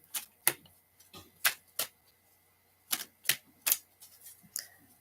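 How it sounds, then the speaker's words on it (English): Tarot cards are shuffled by hand: a run of sharp, crisp riffling snaps and taps come in irregular bursts, some close together and some with short pauses between them, up close in a quiet room. "shuffle one more time"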